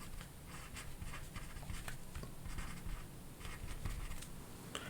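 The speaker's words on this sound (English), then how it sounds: "Let me just write it here." Pen or marker scratching out cubic equation roots by hand on a writing surface, steady continuous strokes with brief taps, close and moderately loud with no talking.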